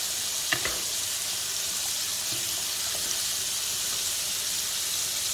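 Spaghetti being stirred in a pot of boiling water: a couple of sharp utensil clinks near the start, then a steady soft hiss and bubbling that carries on alone.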